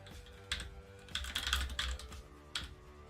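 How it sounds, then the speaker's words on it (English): A few short bursts of keystrokes on a computer keyboard, close and crisp, separated by brief pauses, with no talking. "I am typing and also talking."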